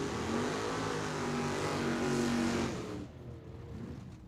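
A Chevrolet Camaro drag car launches down the dragway with a loud, sustained engine roar that drops off sharply near the end as it pulls away.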